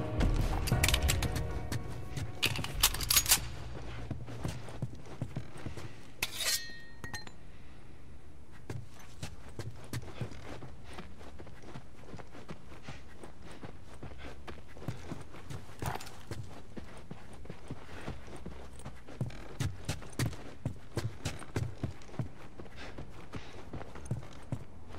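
Horse hooves clip-clop in a steady walking rhythm throughout in the video game The Last of Us, fairly close, with a few short bursts of noise near the start.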